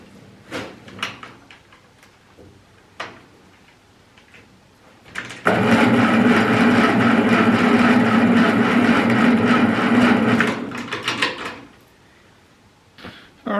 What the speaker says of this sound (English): cranking far better with the jump lead off the battery down to the starter motor